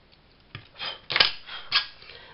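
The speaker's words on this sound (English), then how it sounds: "And then I'll just trim the" Scissors trim the top off a paper journaling card, giving a few quiet, close snips and crisp cuts over about two seconds in an otherwise silent room.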